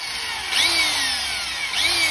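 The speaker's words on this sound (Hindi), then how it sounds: "सबसे पहले आपको इसमें ड्रिल करना है" Power drill boring into a broken bolt on a KTM Duke 200 motorcycle, a steady close high-pitched whine with two brief surges in pitch as pressure is applied.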